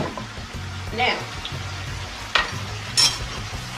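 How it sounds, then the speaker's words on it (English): Steak frying in a pan gives a steady close sizzle while a spoon stirs and scrapes, with a few sharp metallic clinks; a person briefly speaks over it. "Do you guys see that sizzle? That's a sizzle."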